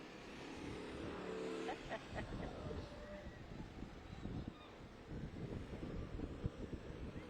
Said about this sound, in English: these cute little buggies